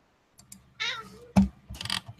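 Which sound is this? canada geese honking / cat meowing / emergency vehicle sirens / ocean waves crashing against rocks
cat meowing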